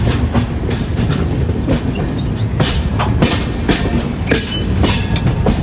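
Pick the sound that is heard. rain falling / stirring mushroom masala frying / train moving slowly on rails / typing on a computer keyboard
train moving slowly on rails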